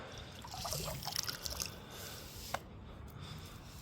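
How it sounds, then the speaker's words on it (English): Water trickling and dribbling out of a waterproofed Amazon FPV drone just lifted from a pool, a steady wet hiss with small splashy drips and one sharper drop, close and fairly quiet. "You see all the water draining out."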